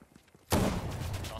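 Gunfire in the video game Fortnite erupts abruptly as a loud, dense burst partway through, preceded by quiet background chatter and continuing as a sustained barrage.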